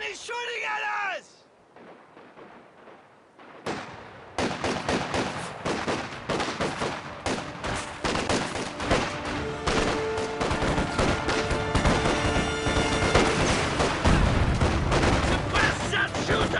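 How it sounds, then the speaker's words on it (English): Dense, continuous gunfire and artillery in Company of Heroes 2, a 2v2 World War II strategy match, with rapid overlapping shots and booms filling most of the clip after a brief quieter opening with a voice. "Ivan is shooting at us!"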